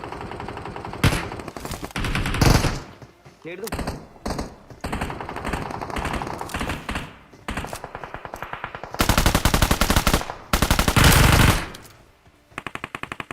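Loud automatic rifle fire from the mobile battle royale game BGMI rips out in repeated long bursts and short volleys, close and harsh with brief gaps between strings of rapid shots.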